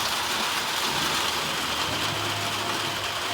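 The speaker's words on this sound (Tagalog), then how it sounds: "Lakas pa ng ulan." Steady, dense hiss of heavy rain pouring continuously, with a low engine-like hum running underneath throughout.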